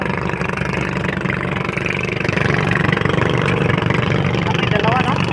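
A fishing boat engine idling at Navotas, a loud steady chugging rumble close by with a slight rise in level partway through, while people talk over it.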